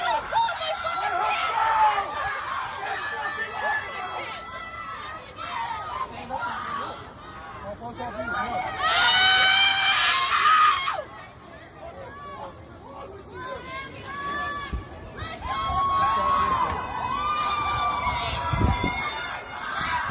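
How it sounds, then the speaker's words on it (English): A woman screams repeatedly while being arrested as a professor, her cries rising above a noisy crowd with chatter and shouting, recorded outdoors over an extended stretch. "Now listen closely, because she starts screaming."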